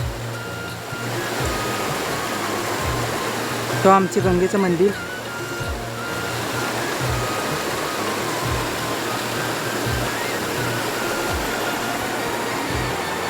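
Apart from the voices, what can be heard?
river flowing near Tiware Gangechiwadi waterfall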